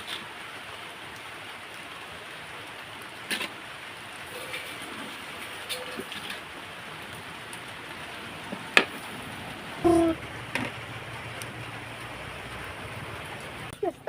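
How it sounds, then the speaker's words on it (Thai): Rain falls outside during home cooking of stir-fried basil with minced pork: a steady, soft hiss runs throughout, with a few faint clicks and knocks from nearby. "ฝนตกได้ยินเสียงฝนบ่พี่น้องจ้า"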